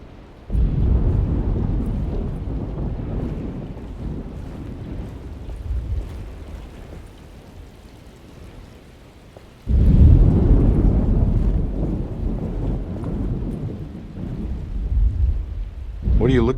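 A thunderstorm in the video game Alone In The Dark brings deep rolling thunder over steady rain. A low rumble fades, then a second loud crash swells back up and keeps grumbling.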